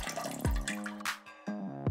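Cold water splashes onto a sleeping man in an apartment during a prank: a few quick watery splashes and drips over a tonal musical background, close and fairly loud.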